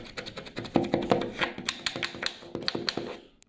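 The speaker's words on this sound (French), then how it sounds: "Le placo, regardez, je gratte." Dry scraping and tapping against rotten drywall in a shower, irregular close-up scratches and knocks with no talking.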